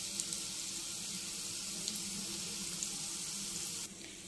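Sliced onions with curry leaves frying in hot oil in a pan, a steady soft sizzle throughout with occasional faint crackles and pops.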